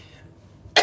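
A single short, dry cough bursts out close by at the very end, after a near-silent stretch.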